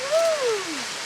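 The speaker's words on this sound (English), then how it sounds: "so here we are at the waterfall" Steady rushing water from a waterfall beside a river, a soft broadband hiss throughout, with a brief whistling tone that slides downward over it.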